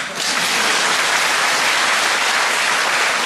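A church congregation at a revival meeting applauds in a thick, continuous wash of clapping that starts almost at once and stays loud and even throughout.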